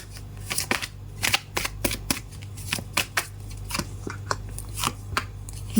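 Tarot cards being shuffled close by, a series of crisp riffling flutters and soft taps in an uneven rhythm, with no voices over them.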